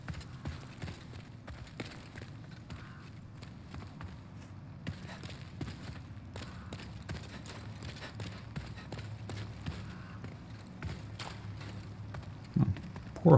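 Horse hooves in the Demon's Souls PS5 remake clop steadily over a dense, continuous game soundscape, the rapid footfalls blending into a rumbling texture at moderate volume.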